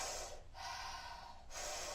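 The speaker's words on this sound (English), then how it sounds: "Go ahead and breathe." Deep, forceful breaths during a guided breathwork exercise, two long rushing inhales or exhales separated by a brief pause, close and loud with no talking.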